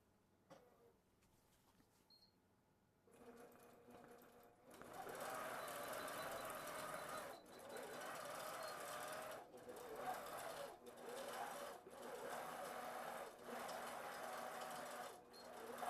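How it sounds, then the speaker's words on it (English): A computerized long-arm quilting machine starts up after a short quiet stretch and stitches a block design with a steady whirring hum and brief pauses, loud and close. "I'm going to hit sew."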